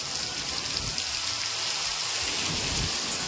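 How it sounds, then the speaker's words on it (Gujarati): Torrential rain lashes down in Gujarat amid strong wind, a thick, constant hiss of downpour close by with low rumbling gusts underneath. "એવો વરસાદ છે અત્યારે."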